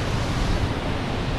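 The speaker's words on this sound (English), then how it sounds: "Like a lot of water going over it." A creek in the Victorian High Country pours heavily over rocks, producing a loud, dense, continuous roar of rushing water close by with no pauses.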